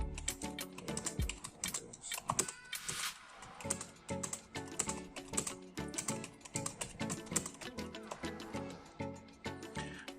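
Typing on a Logitech K230 wireless keyboard: a steady run of quick, fairly soft key clicks with brief pauses, close and alone without talk.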